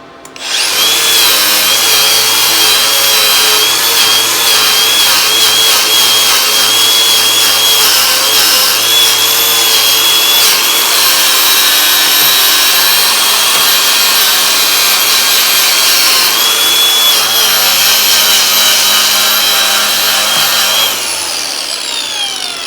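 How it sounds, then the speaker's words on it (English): A power grinder whines loudly and steadily against the metal of an old John Deere tractor, a harsh continuous scraping roar that spins down at the end. "that's about all I can do with the grinder"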